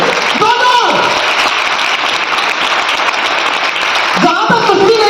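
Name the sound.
audience applause at company anniversary event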